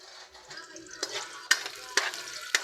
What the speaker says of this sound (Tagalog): dinisa ko muna ng bawang, sinunod ko yung sibuyas. Ayan, nilagay ko na rin yung luya